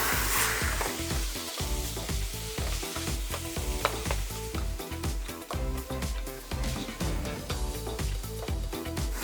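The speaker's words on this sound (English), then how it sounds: "Now you just want to keep stir frying this until that pork is cooked." Pork stir-fries in a wok with garlic and chilies: a continuous loud sizzle overlaid by rhythmic scraping and clattering strokes of a spatula, close up with no voices.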